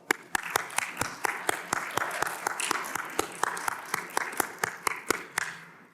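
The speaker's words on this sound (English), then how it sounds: "if we could give them a round of applause" Audience at an industry careers panel in Chicago claps in a steady round of applause, with sharp individual claps standing out over a dense, moderately loud wash of clapping.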